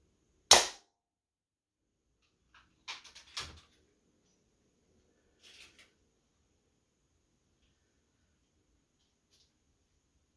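A Beeman Raider air rifle fires a 33 grain pellet: one sharp, loud, close crack, followed by a few fainter clicks and knocks of handling, then quiet.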